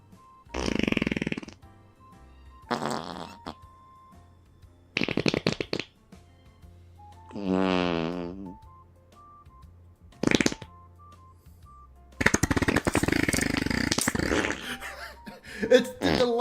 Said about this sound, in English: let's check my fart command.